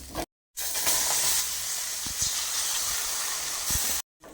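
Tomato paste hitting a hot pan of spices and shallots gives a steady, close sizzling hiss that lasts a few seconds, with brief gaps where it drops out.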